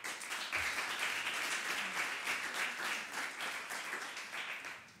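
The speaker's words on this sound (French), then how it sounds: "on applaudit Asma." An audience at a university thesis-presentation contest bursts into steady, sustained applause, a dense wash of many clapping hands that holds for several seconds before tapering slightly.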